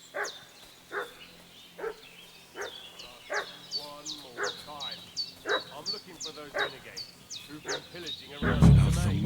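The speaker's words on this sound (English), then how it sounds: "What's that dog making such a fuss about?" A dog barks repeatedly in Kingdom Come: Deliverance 2, a steady series of sharp, fairly close yelps spaced under a second apart over a low game ambience, ending with a loud burst of noise.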